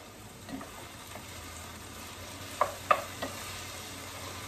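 Vegetable bhaji frying in a pan gives a quiet, steady sizzle close by, with a few sharp clinks and scrapes of a utensil stirring near the middle. No one speaks.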